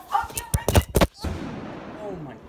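Firecracker set off on a Barcelona street, a burst of several sharp loud cracks in quick succession, followed by a fading rumble and faint background noise.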